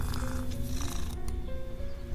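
A pretty cat in the hidden-object game Tree of Dreams purrs in a continuous, close, low rumble, with a few faint clicks over it and no voices.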